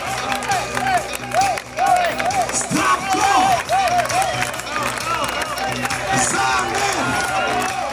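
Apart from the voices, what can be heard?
audience applause and cheering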